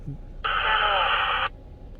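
A short burst of bandlimited, crackly transmission from another user on an Onn FRS two-way radio, lasting about a second, cutting in and out abruptly against a quiet background.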